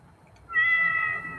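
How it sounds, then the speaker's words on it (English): A kitten gives a single thin, high meow that swells after a quiet start and holds for nearly a second before fading, heard indoors against a faint low background. "It sounded like a cat. A kitten. It was coming from the spare bedroom."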